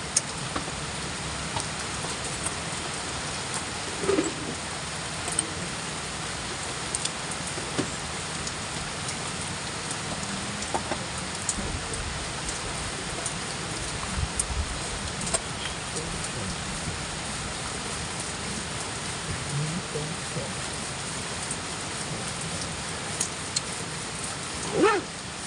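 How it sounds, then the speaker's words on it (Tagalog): Heavy rain pours steadily over Santo Domingo market, a dense continuous hiss with scattered faint knocks and distant sounds underneath, and no clear talk. "Grabe ang ulan. Ang lakas oh."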